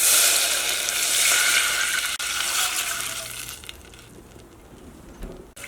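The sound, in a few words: water poured into hot pot for egg biryani rice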